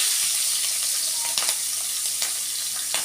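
Cumin seeds and green chilies frying in hot oil for an egg fry, a loud, steady sizzle with occasional scrapes of stirring heard up close.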